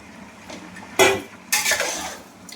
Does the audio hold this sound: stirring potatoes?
yes